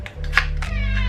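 A cat meows a few short times close by over a steady low hum, with no talk.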